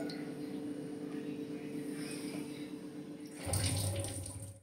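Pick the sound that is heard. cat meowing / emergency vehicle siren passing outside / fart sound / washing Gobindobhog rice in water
washing Gobindobhog rice in water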